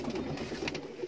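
Pigeons in a breeder's loft, including a crossbred bird, cooing softly and continuously at close range with low murmuring calls overlapping.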